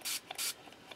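Short hissing bursts from a spray bottle wetting a fairly new brush for polymer clay work, two longer pumps followed by a couple of fainter puffs, close by.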